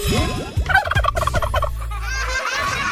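A turkey gobbles close and loud, giving a rapid, wavering burst of throaty calls followed by a sustained low warble.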